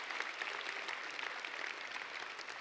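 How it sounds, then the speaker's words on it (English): Audience applause honoring veterans at an awards ceremony, a continuous, even rattle of many hands clapping, moderately distant and fairly quiet throughout. "give them a round of applause, ladies and gentlemen."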